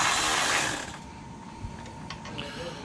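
A loud whirring burst from a tool tightens intercooler mounting bolts during a car install, then fades into faint mechanical clicks and ratcheting, nearby and without talking.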